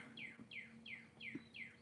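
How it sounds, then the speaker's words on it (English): A red bird sings from a tree outdoors on a clear day, five faint, evenly spaced down-slurred chirps. "The red bird's like right here on the tree."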